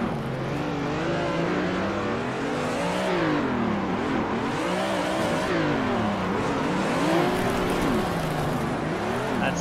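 Race car engines from Assetto Corsa, with BMW E30s drifting, rev and wail continuously in rising and falling sweeps as the cars slide through corners, loud and unbroken.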